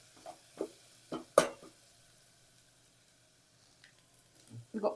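Masala paste sizzling in a hot tempering for pepper rasam, giving soft frying crackle with a few sharp stirring knocks against the pan, moderately close and with no talk.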